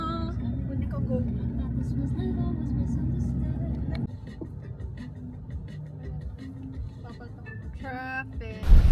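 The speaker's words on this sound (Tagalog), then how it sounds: "Traffic." Road traffic rumbles around a car during a weekend outing with friends, a steady low drone that drops off partway through, with people chatting over it and a louder burst at the end.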